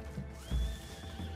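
Horse neighing in the video game Red Dead Redemption 2, a single rising and falling whinny with a low snort, close and clear over game background noise.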